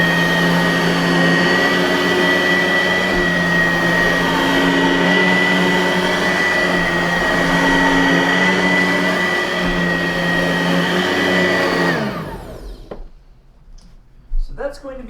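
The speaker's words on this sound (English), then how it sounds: "Let's go ahead and turn her on so you can see what she sounds like." A Numatic cylinder vacuum cleaner on high roars steadily at close range with a constant whine, then winds down and shuts off near the end.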